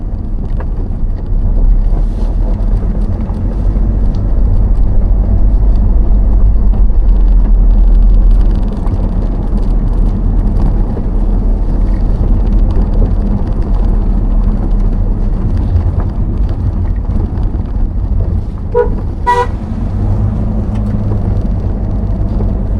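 A car drives steadily through a rural landscape, giving a continuous low rumble of road and engine noise with wind buffeting, broken once near the end by a brief sharp click.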